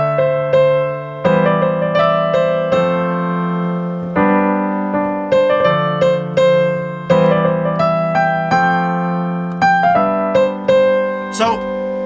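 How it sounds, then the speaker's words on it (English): Avicii's Ain't a Thing melody played as a clean synth line, a run of bright plucked chord stabs repeating in a steady pattern and sounding close and loud, with no voices. "What we got here is we got Ain't a Thing, and it sounds like this."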